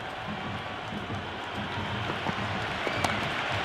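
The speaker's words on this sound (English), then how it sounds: "It's almost palpable, the excitement emanating from this crowd at the moment." Virtual stadium crowd in Cricket 26, at an IPL match between LSG and DC, applauds a six with a steady, dense roar of clapping and cheering that holds evenly throughout.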